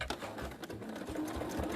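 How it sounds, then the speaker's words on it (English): A sewing machine runs steadily, stitching a brown line across collage-pieced quilt fabric, with a continuous close mechanical whir and no talking. "I am literally just sewing along that top line in a brown."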